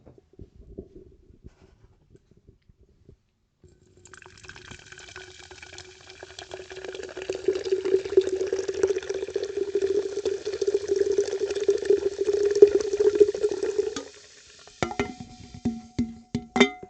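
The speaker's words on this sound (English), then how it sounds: "let's open this can up and let's see how this drink smells. Let's give this a fancy sip pour." C4 Jolly Rancher green apple energy drink is poured from a can into a glass, a steady bubbling, fizzing stream that builds for several seconds, then stops, followed by a few light clinks.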